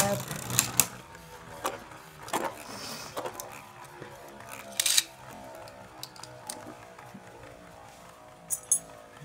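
Beyblade spinning tops Galaxy Zeutron and Driger launched into a plastic stadium, with repeated sharp metallic clacks and rattling collisions scattered over several seconds, and a person talking intermittently over the clashes.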